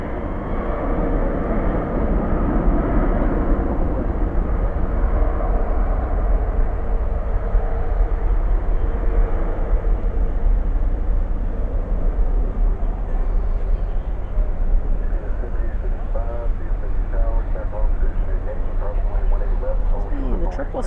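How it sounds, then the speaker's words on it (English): A Boeing 777 rolls down runway 18 left at DFW Airport at night, its engines making a steady, heavy rumbling roar throughout, with a voice talking over it. "Finally rolling down 18 left."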